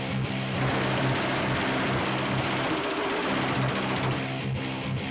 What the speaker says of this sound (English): Jesse begins to fashion a curved shape on a power hammer.